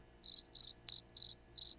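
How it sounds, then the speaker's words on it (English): Soundboard cricket chirping effect: five evenly spaced, bright trilled chirps in quick succession, clear and isolated against near silence. "Crickets."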